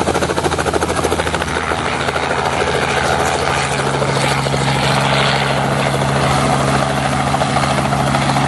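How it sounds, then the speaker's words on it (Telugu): Helicopter engine and rotor heard from inside the cabin during a ride, a loud steady droning roar with a rhythmic blade thump, constant throughout. "చూస్తున్నారు కదా హెలికాప్టర్ రైడ్."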